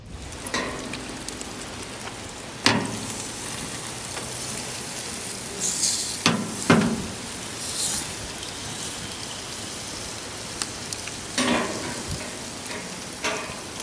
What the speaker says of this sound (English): instantly drop that tri-tip right on top of the coals